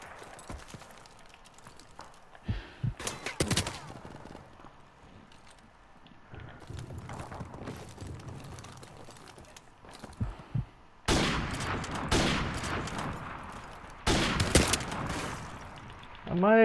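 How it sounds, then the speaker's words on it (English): Gunshots and bursts of gunfire in a video game gun-game match, with loud clustered volleys near the middle and again toward the end, amid busy game noise and background talk. "I keep missing all my shots"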